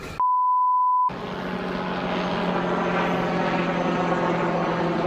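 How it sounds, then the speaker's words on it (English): A helicopter passes overhead on a hot day, its steady rotor and engine drone filling the scene after a short electronic beep at the start, with no talk. "A helicopter?"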